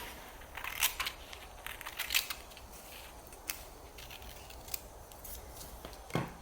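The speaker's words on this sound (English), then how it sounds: "and trim the edge" Scissors trim the edge of a rolled paper tube for a paper craft: a few crisp, faint snips spaced apart, with no talking.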